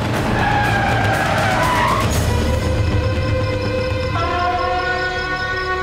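A vehicle in an action film screeches as it brakes and skids to a stop, a loud sustained tire squeal under a swelling dramatic music score.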